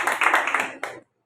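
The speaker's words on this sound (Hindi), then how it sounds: "जोरदार ताली में।" A church congregation bursts into clapping during a sermon on family blessing, a brief dense burst of hand claps that fades out after about a second.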